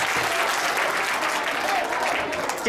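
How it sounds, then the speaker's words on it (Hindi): Loud, dense applause from a crowd at a school Republic Day celebration, many hands clapping vigorously and continuously, close and full. "ताली जोर जोर से, जोर जोर"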